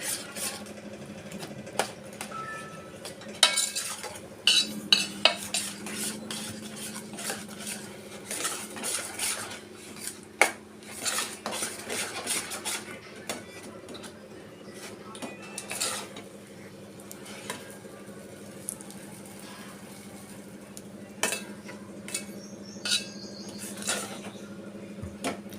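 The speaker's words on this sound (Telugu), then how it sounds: "సిమ్లో పెట్టి ఇలా ఉండలు లేకుండా బాగా కలుపుతూ ఉండాలి" Ragi sangati stirred continuously in a pot over low heat to keep out lumps, a long stretch of spoon scraping and clinking against the pot with irregular sharper knocks.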